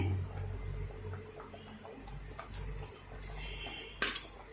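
Pieces of plantain go into a simmering fish curry pot, making a soft, quiet kitchen clatter that ends in a brief, sharper clink against the pot.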